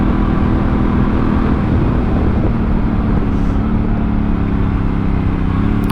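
A Honda Africa Twin CRF1000L police motorcycle fitted with a Yoshimura exhaust pipe and Dunlop Trail Smart tires gives a steady, loud low engine rumble with wind noise throughout, no talking.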